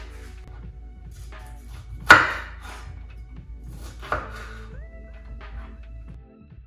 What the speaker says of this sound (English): I gotta cut them in half or in quarters.